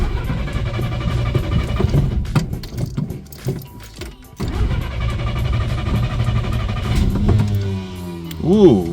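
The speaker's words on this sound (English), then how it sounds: "Ooh, good old starter whine." A 1962 Studebaker Lark's engine cranks and runs with a low rumble and shifting whine, rising into a wavering revving tone near the end, with a voice heard over it.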